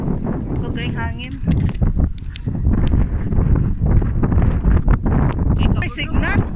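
Gusty wind buffets the microphone as people talk over it at a cafe in Pamplona, Negros Oriental.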